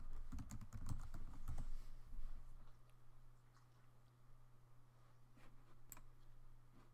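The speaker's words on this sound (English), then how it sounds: "so I'm going to enter my password." Typing a password on a computer keyboard: a rapid burst of close, crisp key clicks for the first couple of seconds, then sparse single taps over a steady low hum.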